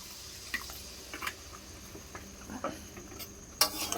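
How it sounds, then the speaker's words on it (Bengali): Soft, quiet stirring of curry in a pan after water is added for the gravy, with light scrapes, drips and faint bubbling over low background hiss. "ঝোলের জন্য জল দিয়ে দিলাম"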